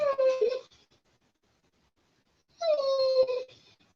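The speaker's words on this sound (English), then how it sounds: "Quit wagging your tail and whining." A dog whining in two short, high, tonal bursts separated by a quiet pause, close and fairly loud, with no talk over it.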